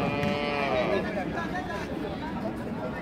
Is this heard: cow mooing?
yes